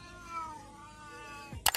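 A domestic cat meows in a drawn-out, wavering cry, followed by a couple of short, sharper calls at the end, fairly close with no other sounds.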